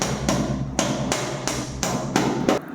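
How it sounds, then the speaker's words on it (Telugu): A 6mm PVC wall plug is tapped into a drilled hole in a wall, with six sharp, evenly spaced hammer knocks over a steady low hum. "ఇక్కడ చూస్తున్నారు కదా 6mm పీవీసీ వాల్ ప్లగ్ ఇందాక చేసిన హోల్ లో అయితే ఇన్సర్ట్ చేసుకుంటున్నాను"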